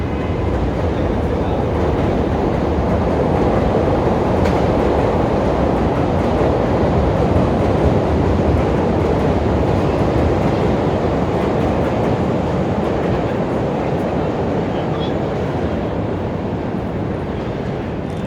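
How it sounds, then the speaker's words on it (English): A Chicago elevated train rumbling past along downtown streets near Wabash, a steady loud roar of wheels and cars that holds throughout with city ambience and no clear talk. "I just love that Chicago train sound."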